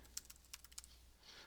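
Computer keyboard typing, a quick burst of light key clicks in an irregular rhythm, faint and close, followed by a soft rustle, with no voice.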